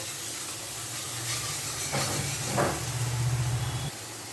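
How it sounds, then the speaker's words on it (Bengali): Spice paste fries in a pan for a vegetarian dish, giving a steady broad hiss and sizzle throughout, with a brief rise as it is stirred, close and continuous. "এবার আমি মশলাটাকে খুব ভালো করে কষিয়ে নেব।"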